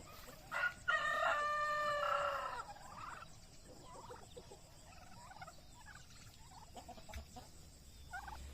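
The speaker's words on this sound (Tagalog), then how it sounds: "Ito sumusunod sa akin yung mga pabo." A turkey gobbles loudly once, a rapid warbling burst, followed by quieter scattered bird calls and rustling as free-range turkeys roam outdoors.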